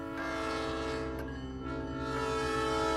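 Train arriving with a sustained, loud horn blast that holds nearly continuously for a few seconds, briefly dipping midway, over a low rolling rumble of the approaching train.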